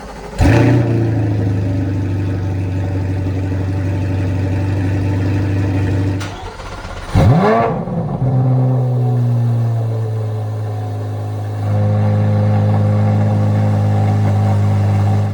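A Chevrolet Corvette C8 Z51 Stingray cranks and fires on a cold start, dips briefly, then flares again with a sharp rev before settling into a loud, steady high idle that steps up later, with no talk.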